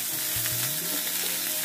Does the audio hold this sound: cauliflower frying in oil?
yes